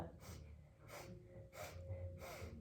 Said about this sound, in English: we'll do a 4-part inhale and a 4-part exhale. So it's in like little sniffs.